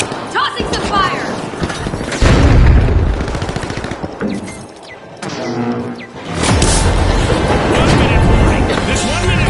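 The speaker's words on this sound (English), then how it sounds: "a flashbang! Tossing some fire!" Flashbang and fire grenade blasts in the shooter game The Finals, loud booms and bursts mixed with gunfire and a game announcer's voice, with a brief lull in the middle before the racket resumes.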